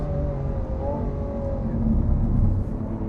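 A Lamborghini Aventador S on track gives a low, rumbling engine drone that swells as the revs climb, heard from inside the car without talking.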